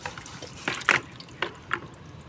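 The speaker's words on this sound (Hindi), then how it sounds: "उस साइड मेरा पानी का ज़रा पोट भर गया" A pot filling with water in a garden: several short splashes and pours come in uneven bursts, close by and fairly faint.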